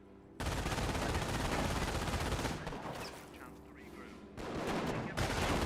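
Sustained burst of US .30 cal machine gun fire in the World War II strategy game Company of Heroes, loud and dense, briefly easing mid-clip before the firing swells again.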